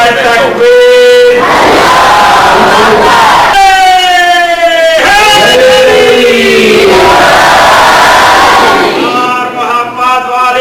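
A large crowd at a religious gathering shouts the takbir slogan in loud, chanted unison, bursts of massed voices rising and falling close and full across the whole stretch.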